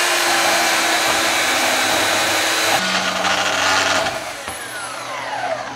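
Power tool cutting a steel coil spring taken from a scrapyard, a loud, steady high-pitched grinding whine that runs continuously and drops slightly in level near the end.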